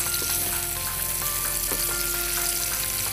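Green chilies fry in a pan with a loud, dense, even sizzle that crackles steadily from start to finish, close up with no voices.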